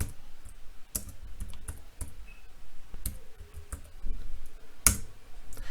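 Quiet keystrokes on a computer keyboard, a loose run of soft clicks and taps at irregular intervals with one sharper click near the end, close by and with no talking.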